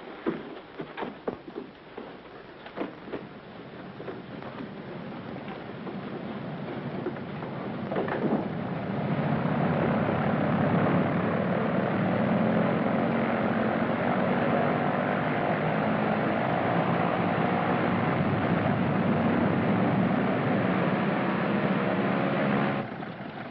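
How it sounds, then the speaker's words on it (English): A German propeller airplane drones in flight in a 1943 film scene, its engine rising from faint to a steady, loud, sustained roar that holds for many seconds. "In a German plane?"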